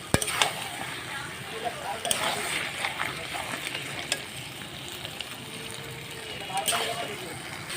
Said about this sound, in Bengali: এবার আলুটা দিয়ে ভালো করে আমি কষিয়ে নেবো। একদম হালকা ফ্লেমে কষাবো।